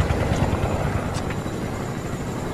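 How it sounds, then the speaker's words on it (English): Helicopter in a multiplayer shooter video game, a continuous rotor and engine whir heard at moderate loudness for a few seconds, with no talk over it. "And then we got a chopper"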